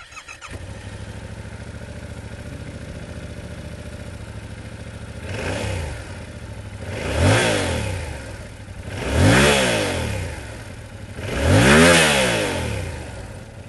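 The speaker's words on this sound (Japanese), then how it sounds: "それではエンジン音をチェックしたいと思います" A Yamaha YZF-R7 with a 270-degree crank idles steadily, then the engine is revved four times in rising bursts, each climbing and falling back, up close.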